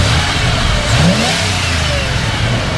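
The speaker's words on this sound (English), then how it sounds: "Go ahead and rev it up a little bit." A 1997 Ford F-250 pickup's 460 V8 engine revs up in a short, loud, close burst, the pitch rising briefly before settling back to a steady rumble.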